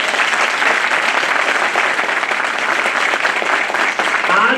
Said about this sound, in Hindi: ये ताली इनरोलमेंट की नहीं है, ये ताली हल्की है आपके इनरोलमेंट के हिसाब से।